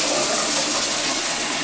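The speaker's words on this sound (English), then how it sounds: "we have the hot water going here" Hot water sprays steadily from a shower at strong pressure, a continuous close hiss of running water with no pauses for the whole moment.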